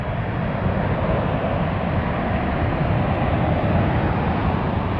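A jet airliner climbs away after takeoff with its landing gear retracting. A steady, loud broadband engine roar holds constant throughout, heard from outside at an airport.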